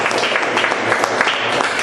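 A church congregation claps at the close of a service, a steady dense patter of many hands at moderate distance with no pauses.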